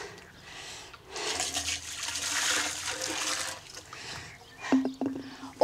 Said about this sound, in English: She then turned to the second line of defence, boiling water.